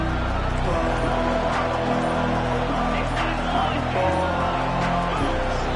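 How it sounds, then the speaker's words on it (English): Stadium crowd roaring in College Football 25 video game, a dense continuous wall of noise with faint cheers, under game commentary speech. "with this place rocking, the crowd forces a false start"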